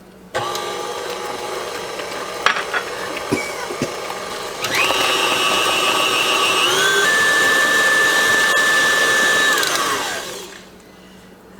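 An electric mixer whirs steadily through pound cake batter, with a steady motor tone that shifts pitch as the speed is raised and then winds down to a stop, close and alone.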